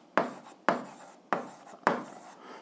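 A pen writes out an algebra solution in four distinct, evenly spaced scratchy strokes, close and fairly quiet, with no voice over them.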